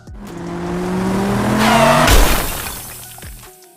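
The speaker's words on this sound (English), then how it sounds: "The van is back with another crash test. This time it's going into the wall." A LEGO van driven into a wall in a crash test, with a rising motor whine building to a sharp clattering impact of scattering plastic bricks, then brief rattling debris before fading out.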